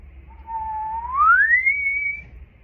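A person whistles a single smooth rising tone, starting steady and then sliding upward, clear and close, demonstrating tongue voicing for clarinet playing.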